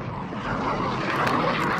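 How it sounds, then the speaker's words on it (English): An approaching cruise missile in Call of Duty Modern Warfare II, a loud continuous jet-like roar that holds steady and swells slightly over two seconds, with no talk. "Friendly cruise missile approaching target."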